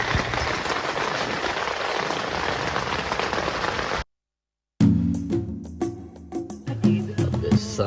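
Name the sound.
rain on a mountain at night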